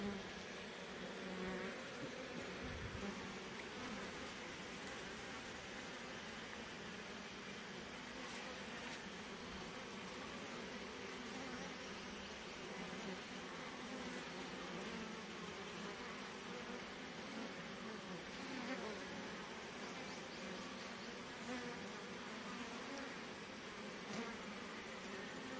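Bees swarm around a hive built inside an electric pole in Quang Nam, Vietnam, giving a dense, continuous buzzing drone that stays steady and close throughout, with no talk over it.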